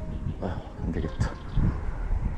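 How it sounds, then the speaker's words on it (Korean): Strong wind gusting at a pond bank during crucian carp fishing, a steady broadband rush that buffets the microphone for a couple of seconds, with no voice. "바람이 세네요."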